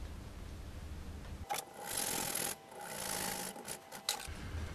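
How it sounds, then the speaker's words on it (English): A hand saw cuts crosswise into a homemade lawn dart with a series of dry, rasping strokes that start after a quiet moment and run for about three seconds at close range, with no talking. "Now we use the saw and saw this in crosswise."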